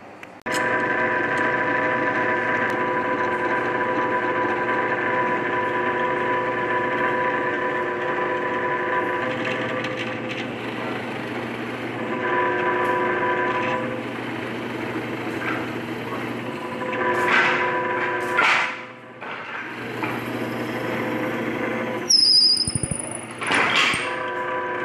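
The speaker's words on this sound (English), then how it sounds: "I use a drill press." A drill press hums steadily while boring holes in a workshop, a continuous motorized drone with a low tone that shifts partway through, then scraping clatters and a short high squeal near the end.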